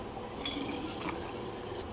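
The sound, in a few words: filling washed jars with hot Worcestershire sauce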